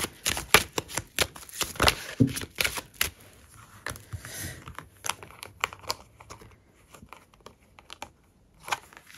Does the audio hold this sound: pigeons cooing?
no